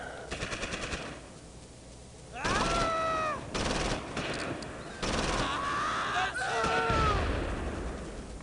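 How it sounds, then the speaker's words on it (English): An airstrike in the Close Combat Invasion Normandy war game, with bursts of machine-gun fire followed by loud explosive blasts and whistling, layered with other battle noise and a voice talking. "Come on in, airstrike."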